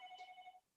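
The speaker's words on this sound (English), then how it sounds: "pardon my phone ringing." A phone rings faintly in a room, one short tonal electronic ring that warbles briefly and then cuts off.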